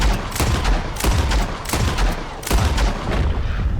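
Rapid volleys of gunfire from the Red Dead Redemption 2 video game, several loud overlapping shots in quick bursts with booming low end, dense and close throughout.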